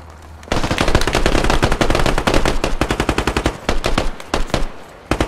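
Loud, close machine-gun fire in a video game comes in long rapid bursts of sharp shots that break into shorter volleys toward the end, with no talk over it.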